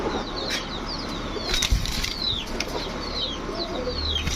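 Pigeons, racer and Danish breeds at a street pigeon seller's stall, flap their wings in repeated close bursts, mixed with thin chirps over a busy outdoor background.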